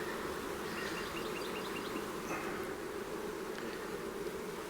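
Honeybees hum steadily around an open seven-frame nuc hive set up for raising new queens, a dense, even buzz close by with no talk.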